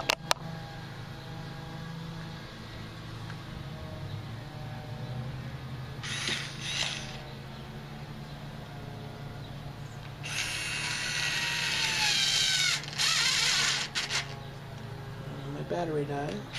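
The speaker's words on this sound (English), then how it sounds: "All I have to do is screw that back in." Screw being driven back in by hand during a guitar MIDI pickup installation, with short ratcheting clicks in separate bursts, near and moderately loud over a quiet room, with speech at times.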